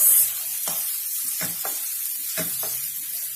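Diced potatoes and fried chilies in an oily spice paste sizzle softly in a pan while being stirred, with a few scraping spoon strokes over a low hiss. Nobody speaks.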